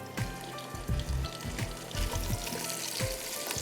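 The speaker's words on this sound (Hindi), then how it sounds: "ये ड्राई फ्रूट आपने अच्छी तरह फ्राई करनी है घी में या तेल में या मक्खन में" Dry fruits fry in hot ghee with a dense, steady sizzle and crackle, punctuated by a few soft clinks of stirring, close and without talk.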